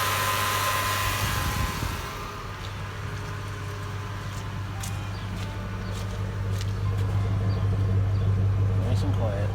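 A Ford F-150 with a replaced Triton 4.6L V8 idles steadily and quietly close by, a low even hum with a faint whine on top, while someone talks over it.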